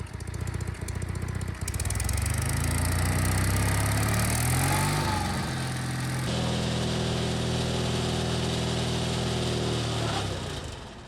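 Sears GT18 garden tractor engine running in low gear with a steady, loud drone that shifts pitch as it drives, rising and falling slightly, close by and without talk.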